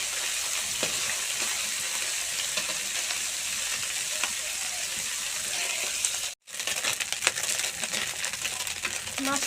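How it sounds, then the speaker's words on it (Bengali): Fish frying in a pan as a Bengali cabbage ghonto is cooked, giving a steady close sizzle with scattered pops and crackles that run without a break, apart from one brief silence near the end. "মাছটা আমার ভাজা হয়ে গেছে"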